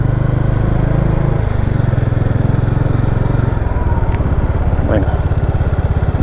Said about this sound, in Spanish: Démosle la vuelta aquí, vamos a cuadrar la moto